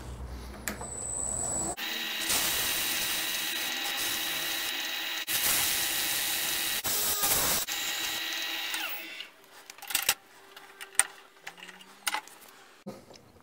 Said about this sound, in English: to polish it up with some wet and dry now.